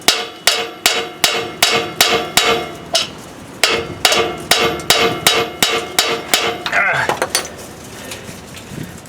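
Repeated sharp metallic hammer blows on a rear axle part of a 2008 Chevy Suburban, in a fast, steady rhythm, close by, with a short pause midway and a brief voice near the end.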